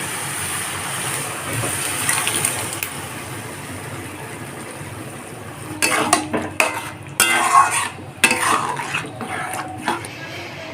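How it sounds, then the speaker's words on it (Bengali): Boiled moong dal goes into simmering bottle gourd in a pot over a steady background hiss, followed by a cluster of clinks, scrapes and splashy stirring knocks from a spoon against the pot. "এখন সিদ্ধ করে রাখা মুগের ডালটাকে দিয়ে দেবে"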